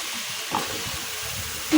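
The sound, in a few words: pointed gourd frying in pan with spices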